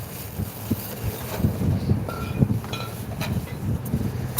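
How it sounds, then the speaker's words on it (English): Strong outdoor wind buffets the microphone in uneven low gusts and thumps, rising and falling throughout, with faint background sounds but no clear speech. "Really windy."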